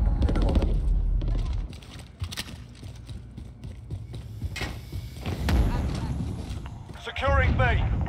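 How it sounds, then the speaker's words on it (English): A weapon reload in Call of Duty Modern Warfare during a Domination match on Piccadilly produces a series of close mechanical clicks and clacks over roughly eight seconds, with gunfire and game noise around them and a few voice-like bursts in the mix. "Gotta reload."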